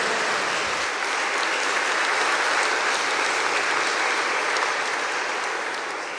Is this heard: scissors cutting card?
no